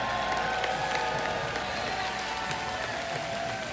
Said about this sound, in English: please, one more time, put your hands together for our champions